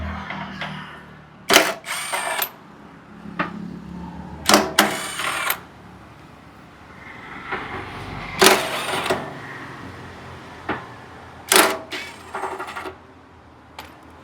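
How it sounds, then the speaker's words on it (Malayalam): Ratcheting and metallic clicking as the four fuel pump bolts on a Royal Enfield Himalayan are loosened, several short bursts of wrench clicks with pauses between them, close and fairly loud, no talk. "ഇത് നമുക്ക് ഊരിയെടുക്കാനായിട്ട് ഈ 4 ബോൾട്ട് നമ്മളൊന്ന് ലൂസ് ചെയ്യേണ്ടി വരും."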